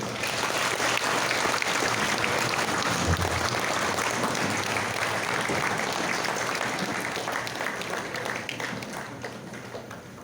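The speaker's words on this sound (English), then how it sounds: "please give a round of applause to our Honorable Mayor, Mayor Oscar S. Moreno." Sustained applause from a large crowd at a Knights of Columbus convention in Cagayan de Oro City welcoming the mayor, steady and dense for several seconds before gradually thinning toward the end.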